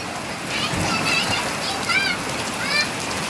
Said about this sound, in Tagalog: Sarap maligo sa ulan kasi pilit ang panahon.